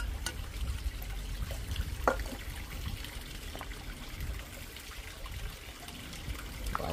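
Dressing trickles in a soft, steady liquid stream over Transylvanian smoked-bone soup with potatoes and tarragon, low and continuous for several seconds with faint kitchen background and no voices.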